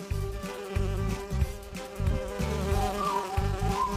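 Honeybees buzz close by, a droning hum that swells and wavers continuously.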